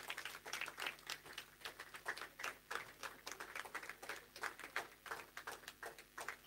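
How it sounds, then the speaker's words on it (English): Church congregation at a Hausa-language service clapping in a steady, rhythmic beat, many hands striking together in regular pulses, moderately close and fairly soft, with no talking over it. "let's clap for him"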